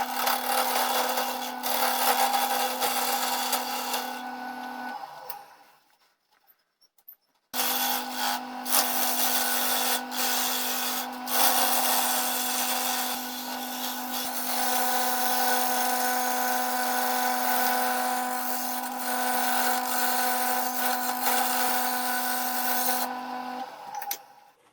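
A wood lathe shapes a wooden cup, its motor hum steady under scraping and rubbing tool cuts, pausing briefly for a couple of seconds before resuming for a long stretch with no talk.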